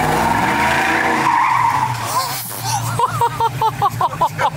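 A car skids with loud tyre squeal over a steady engine drone, ending in a few short bursts of engine or tyre noise.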